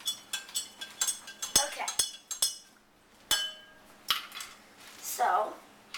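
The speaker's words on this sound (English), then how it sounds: "we're going to plop it around and stir it a little bit" A teaspoon stirs powder into water in a glass, tapping and clinking against the sides in quick, bright strikes with a few pauses, while a voice speaks briefly.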